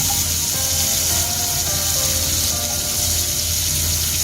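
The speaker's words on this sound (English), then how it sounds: "we saute it again until the onions become little translucent" Onions sauté in butter in a pan, giving a steady, moderately loud sizzle that runs unbroken, with faint kitchen clatter and no talking.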